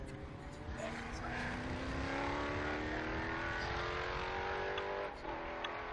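Historic race cars lapping the Estoril circuit in Portugal, engines droning and rising in pitch as they accelerate past, heard at a distance with a brief dip near the end.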